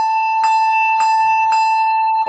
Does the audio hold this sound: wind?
no